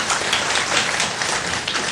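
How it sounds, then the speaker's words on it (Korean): A studio audience at a Gwangju MBC televised special talk applauds steadily, a dense, even wash of many hands clapping that runs throughout without voices over it. "박수 쳐주시죠."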